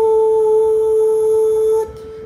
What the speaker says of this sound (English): I'm going to set the frequency to about 440 Hertz. It should sound like this.